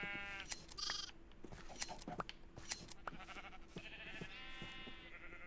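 Sheep in Minecraft bleat repeatedly, several quavering calls close by, mixed with sharp clicks and game sounds, with no talk over them.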